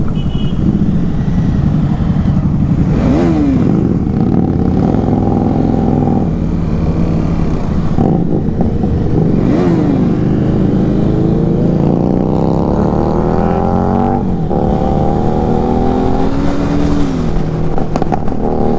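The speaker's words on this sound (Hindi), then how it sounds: "सो आज टोटल नंबर ऑफ बाइक्स है 4, Z900, Harley Davidson, then Java and my KTM Duke 390।" A group of four motorcycles, a Kawasaki Z900, a Harley-Davidson, a Jawa and a KTM Duke 390, riding together on a road near Siliserh Lake in Alwar, Rajasthan, loud close engine drone with repeated rising gear-change sweeps and wind rush throughout.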